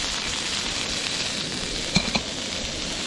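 Small sliced pieces sizzle steadily in a camp pot over outdoor heat, with two quick metallic clinks from a utensil against the pot midway.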